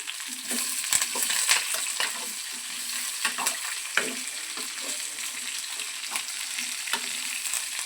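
Curry leaves fry and crackle in hot oil in a pan for a mango pickle, a dense steady sizzle with intermittent stirring scrapes and spatters, close and loud throughout.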